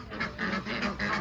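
Ducks quack in a quick run of raspy, nasal calls, several in succession at moderate distance, with no talk over them.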